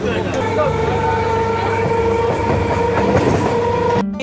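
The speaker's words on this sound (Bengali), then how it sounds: "আমার ট্রেনটা এখন প্ল্যাটফর্মে প্রবেশ করছে" A local train entering a station platform rumbles steadily with metallic wheel screech and clatter, a sustained high whine over the rolling noise, ending abruptly.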